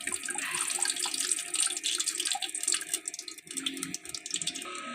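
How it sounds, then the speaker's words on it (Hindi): Mustard oil is poured through a strainer into a pot while making flaxseed laddu, giving a faint, continuous liquid trickle and splashing with no talking. "अब हम छान के डालेंगे सरसों का तेल। छाननी रखेंगे और सरसों के तेल को छानेंगे।"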